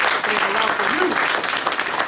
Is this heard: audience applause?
yes